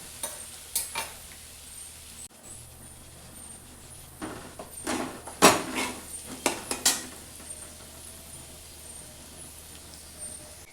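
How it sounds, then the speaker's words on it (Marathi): Coarsely ground green chili and peanut paste sautéing in a pan, a quiet low sizzle broken by a cluster of sharp scraping and clattering stirring strokes in the middle, no speech. "त्याला 2-3 मिनटं चांगलं परतून घ्यायचं."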